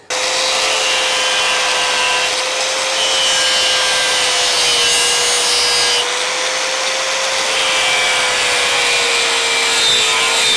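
A power saw cuts through wooden blocks for homemade spring shoes, producing a loud, continuous whine that holds a nearly constant pitch from start to finish.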